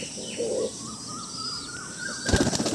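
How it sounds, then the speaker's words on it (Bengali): A white Madrasi pigeon with light speckles flaps its wings near a loft beside a house, a brief burst of wingbeats rising near the end over steady outdoor background with faint bird calls. "এই যে দেখুন পায়রাটা"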